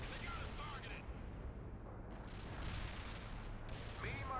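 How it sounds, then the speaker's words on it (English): Medium artillery fires in World in Conflict as a dense, rumbling wash of distant booms under continuous battlefield noise. Radio-style voices speak over the bombardment. "Medium artillery firing at coordinates."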